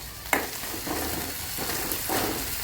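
Onions with a pinch of salt fry in a pan, turning yellow, with a steady close sizzle and a few soft scraping stirs at even intervals; no one speaks.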